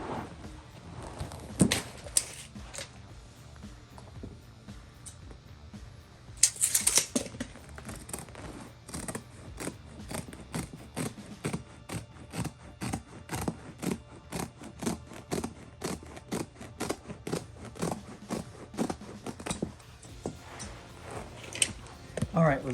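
A carpet piece for a stair tread is cut with a long series of crisp, regular snips and scratchy rubbing, close and moderately loud, with a sharper clatter early on.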